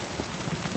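Steady rainfall patters in a video game, a short burst of soft, even hiss with faint droplet taps.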